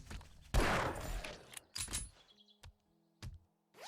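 Gunfire in the survival game 7 Days to Die from a slow-firing, heavy-recoil gun, a loud close blast with a ringing tail followed by a few sparse sharper shots and clicks separated by quiet gaps.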